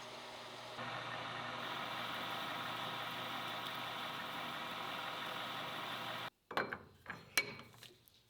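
A metal lathe cuts steel with a magnet fitted to damp chatter, a steady droning hum that stops abruptly, followed by a few sharp clanks and rattles.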